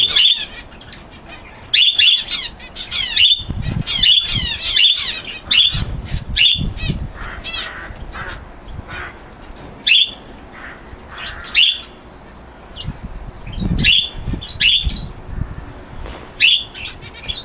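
Several pet birds nearby squawk and chirp in sharp, repeated bursts, with some fluttering and rustling between calls.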